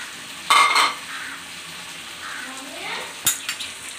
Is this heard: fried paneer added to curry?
yes